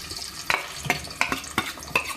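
Two medium onions fry in oil in a pan, a low steady sizzle broken by five sharp stirring scrapes and clicks spaced about every half second, close and fairly quiet.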